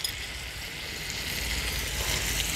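Dried shrimp (sode) sautéing with tomato in a pan for an Agri-Koli style dry masala: a steady, dense sizzle that holds evenly throughout with no voices.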